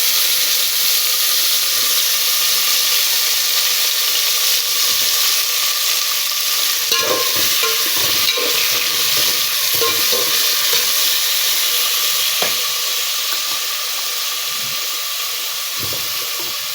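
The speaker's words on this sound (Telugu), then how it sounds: "సో బాగా హీట్ అయిన నెయ్యిలోకి మిర్చి యాడ్ చేశాను ఫ్రెండ్స్." Green chillies sizzle steadily in very hot ghee, a loud continuous frying hiss with faint scraping and stirring knocks running through it.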